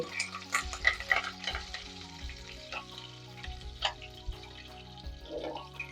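Tempering seeds, a dry red chilli and curry leaves crackle in about a tablespoon of hot oil, quiet sizzling broken by spoon clinks and stirring scrapes, with a hum in the background.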